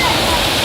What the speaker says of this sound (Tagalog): Kami ngayon sa ilalim ng falls.